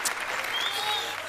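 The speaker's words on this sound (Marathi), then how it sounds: "टाळ्या नाही वाजवायच्या" A short burst of applause breaks out on the set of a comedy serial shoot, a brief spatter of hand clapping from a small group that fades quickly.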